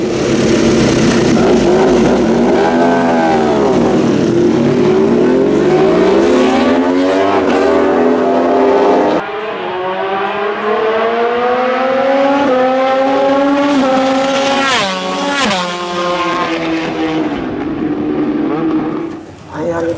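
A Honda RC213V-S motorcycle accelerates hard on a race track, its engine note loud and close, climbing and dipping in pitch through sustained revving.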